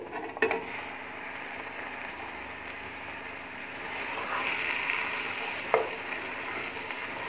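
Mutton frying in a pot for aloo gosht gives a steady, close, even hiss of sizzling for several seconds, broken by a couple of brief utensil clicks.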